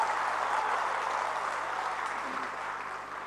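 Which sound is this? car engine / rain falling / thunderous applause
thunderous applause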